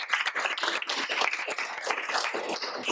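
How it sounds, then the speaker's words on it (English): A crowd applauds steadily, many hands clapping in a dense, continuous patter for the full stretch, with no voices standing out. "round of applause"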